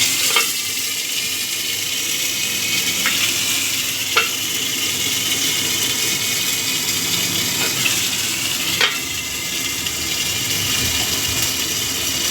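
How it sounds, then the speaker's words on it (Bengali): Ginger and cumin paste sizzles and fries steadily in hot oil for a dal shukto with bean seeds, a continuous close hiss broken by a few sharp spatters and stirring clicks, with no talking. "এবার এই তেলের মধ্যে দিয়ে দিচ্ছি আদা জিরে বাটা"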